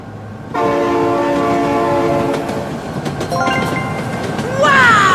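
In BeamNG.drive, a train horn blares in long sustained tones while a train rumbles past close by, the horn sounding again and rising sharply near the end, with a faint voice underneath.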